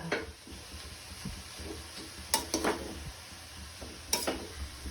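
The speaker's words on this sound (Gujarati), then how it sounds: "હવે ઘીમાં ગાજર શેકી નાખીએ." Grated carrots sauté in ghee for carrot halwa, a soft crackling sizzle broken by a few scraping stirs and two sharp clinks of a spoon against the pan, heard close and fairly quiet.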